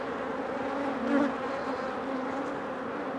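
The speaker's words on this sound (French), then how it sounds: "Et là il y a une abeille qui est en train de la sortir" Honeybees buzz around an opened hive in a steady, close, droning hum with a brief swell partway through, and no talking.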